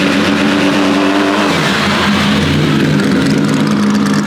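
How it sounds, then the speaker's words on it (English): A Bentley Batur W12 concept car drives past at a car-week concept lawn, its loud engine a steady, dense roar that shifts in pitch midway as it passes close by. "there goes the Bentley Batour W12 from the concept lawn"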